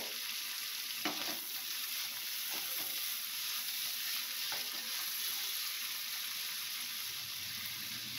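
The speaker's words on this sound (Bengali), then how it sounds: "একটু এটা ভেজে নেব।" Steady crackling sizzle of shrimp and jute greens with turmeric frying in a pan, with a few scraping stirs of a spatula against the metal.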